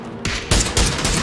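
Sniper rifle gunshots in the PUBG video game, three loud sharp broadband blasts about a quarter second apart over a steady game background hiss.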